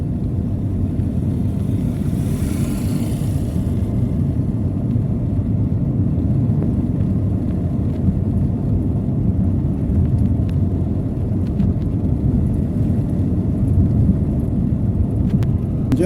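A car drives along a hot, rocky road near Lake Baringo in Kenya, giving a constant low engine and tyre rumble with light wind buffeting across the whole stretch.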